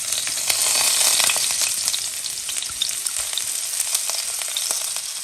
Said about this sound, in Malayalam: ഇതിലേക്ക് നമുക്ക് പെരുംജീരകം ചേർത്ത് കൊടുക്കാം. കൂടാതെ അതിലേക്ക് നമ്മൾ ചോപ്പ് ചെയ്ത് വെച്ചിരിക്കുന്ന ഇഞ്ചിയും വെളുത്തുള്ളിയും ചേർക്കുകയാണ്.